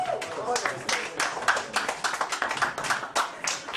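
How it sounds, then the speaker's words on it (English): A comedy show audience claps in scattered, uneven bursts, with voices and cheers mixed underneath throughout. "You can clap for that. Make some noise."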